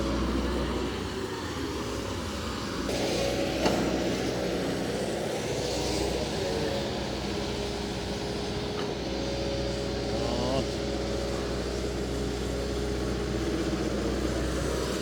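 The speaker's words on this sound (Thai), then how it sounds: "นี่ครับรถซานี่ SY 2 1 5 C ครับ" A Sany SY215C excavator engine drones steadily through the whole stretch at a worksite, a constant low rumble with occasional faint clanks and shifts in pitch.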